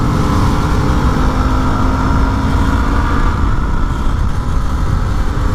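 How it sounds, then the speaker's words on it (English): A Yamaha WR250R motorcycle engine-brakes on the road, giving a steady loud drone with wind rush as the revs slowly fall, close and continuous throughout. "It's nice, the engine braking on this bike."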